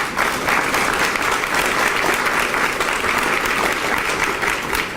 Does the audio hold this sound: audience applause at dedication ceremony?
yes